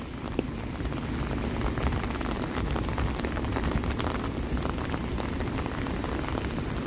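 Rain falls steadily on a Toronto street on an evening between thunderstorms, giving a dense, even hiss of drops on hard surfaces at moderate level with no voices.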